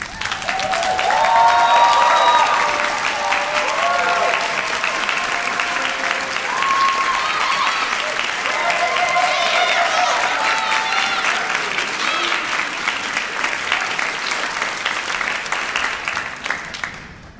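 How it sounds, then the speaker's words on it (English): Graduation ceremony audience in a hall standing and applauding, a dense, sustained wash of clapping from many hands that stays loud and steady throughout, with no talk over it. "So can I ask you all to be upstanding and applaud them, to thank them for their love and support."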